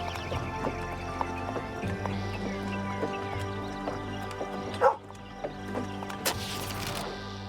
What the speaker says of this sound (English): A happy-looking dog stands beside the trail, wagging its tail.